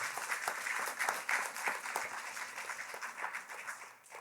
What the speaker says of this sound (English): Graduates, graduates, let's give them a round of applause.